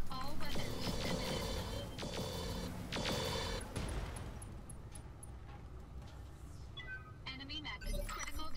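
Weapons fire in the BattleTech game Roguetech: several loud bursts of booming shots and impacts in the first four seconds, followed by rumbling explosions and a dense mechanical din that fades toward the end.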